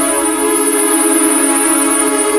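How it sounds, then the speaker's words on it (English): A sustained synthesized pad drenched in reverb, mono and tuned for an ethereal breakcore track, holding a dense steady chord with bright upper overtones and no rhythmic breaks. "And then we just put some reverb."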